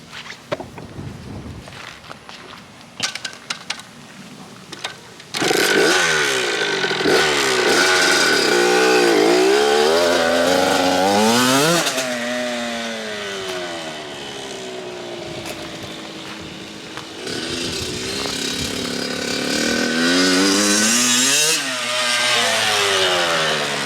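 A Kawasaki KX100 two-stroke dirt bike engine, loud and close, idling and then revving hard again and again, its high whining pitch sweeping up and down through the power band.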